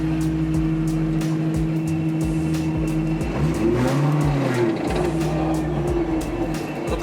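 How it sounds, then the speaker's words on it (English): BMW M3 E92 engine revving hard and loud, with rising and falling pitch sweeps over a steady droning exhaust note, heard up close and alone, without talk. "I find you just got to give it gas, which is hard because it's so loud."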